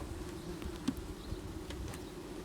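Honey bees buzzing around an open hive during autumn nest reduction, a dense continuous drone of many wings close by with occasional louder passes of individual bees.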